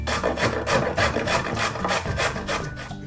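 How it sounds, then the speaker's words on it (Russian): Steady rhythmic rasping strokes of a carrot being rubbed against a grater, continuous and close, with no talking. "А морковку натрем на терке."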